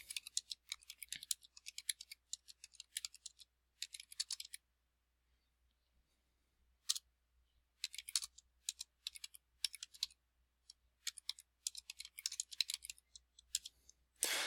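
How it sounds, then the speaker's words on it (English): Quick, light key presses on a calculator keypad as data is entered, coming in bursts of rapid clicks with short pauses between, faint and close with no voices. "So I'm just entering the data from the table in the order it was given to me."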